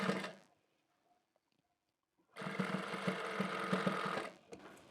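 A sewing machine runs a stitching seam along a lace side fitting on a shirt: a short burst, a pause with faint handling sounds, then a longer steady whirring run up close.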